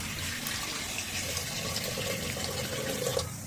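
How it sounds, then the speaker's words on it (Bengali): Water poured into a pressure cooker holding leftover spices after mutton has been taken out, a steady close splashing fill that runs evenly for a few seconds with no voices. "এই কুকারটার মধ্যে যেটুকু যা মশলা আছে তার মধ্যে দিয়ে দিচ্ছি আর একটু জল"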